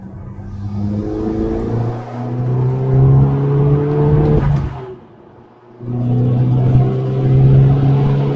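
A car accelerating close by, its engine roaring and rising in pitch, then dropping briefly as if shifting gear before climbing again, loud and alone.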